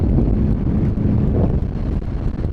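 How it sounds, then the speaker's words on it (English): Wind roar on a 2019 Honda CBR650R motorcycle while riding, a steady, loud rushing buffet of air across the microphone with no break for the whole stretch. "you can probably hear that I'm in the wind flow. If I drop down a little bit, that gets a little bit turbulent there."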